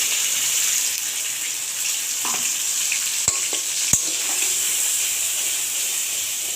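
Spice paste of ground poppy seed and cashew sizzling in hot ghee with dried red chilli, frying steadily for a pointed gourd curry, with a couple of sharp spoon clicks against the pan partway through and no talk.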